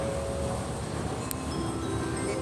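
A Manila MRT train runs with a steady, continuous rumble of wheels and carriage noise, a brief high squeak partway through and no talking.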